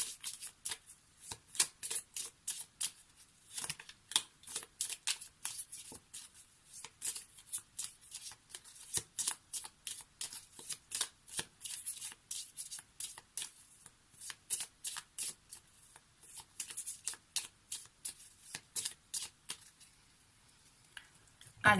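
Deck of Lenormand cards being shuffled by hand, a long run of rapid crisp card flicks and riffles in uneven bursts with short pauses, close and clear.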